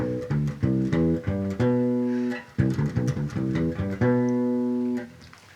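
A bass guitar plays a single measure of melodic notes built around a diatonic enclosure, closing on the third, fifth and major seventh, with clear articulated notes in a steady rhythm, loud and alone with no talking.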